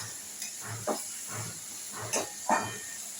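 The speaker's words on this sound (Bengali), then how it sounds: "আগে পেঁয়াজটা খানিকটা ভাজা ভাজা করে তারপর আমি আলু আর বেগুন আর পাকা পাকা লঙ্কা ছেড়েছি" Potatoes, aubergine and ripe chillies frying in a pan over already fried onions give a steady close hiss, with soft rhythmic swells and occasional brighter spits as the vegetables sizzle.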